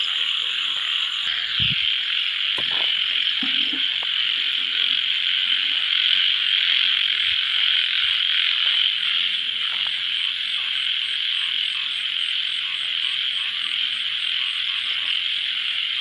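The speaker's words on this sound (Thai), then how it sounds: "ฝนตก กบเขียดก็ร้องนะครับสี่เยอะเลยครับ" A dense chorus of frogs croaking continuously in the rain in Thailand, a bright pulsing trill that fills the whole stretch, with a few faint knocks and rustles underneath.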